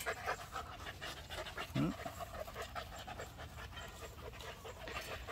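A four-month-old Belgian Malinois puppy pants in quick, steady breaths close by, running through the whole stretch with a short faint yelp-like note partway in, while someone talks over it.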